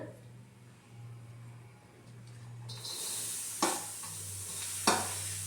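Bitter gourd pieces fry on a hot tawa, a broad sizzle swelling up midway and holding steady close by, with two sharp scraping stirs near the end over a low background hum.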